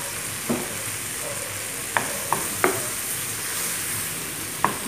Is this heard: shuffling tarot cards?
no